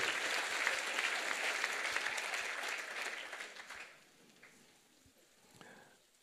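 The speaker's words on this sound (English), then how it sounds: "Give that baby a round of applause." A crowd at an anniversary celebration claps loudly for about four seconds, then the applause thins out into scattered claps and fades.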